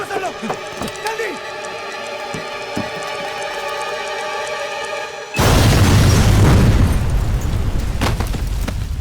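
A bomb goes off in a Hindi action film: a sudden, loud, roaring blast cuts in midway and keeps rumbling to the end, following a stretch of steady tonal sound and scattered knocks.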